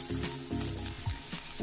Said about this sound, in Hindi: उसमें मैं डालूंगी बारीक कटी प्याज, इसे भी गोल्डन ब्राउन होने तक भून लेंगे।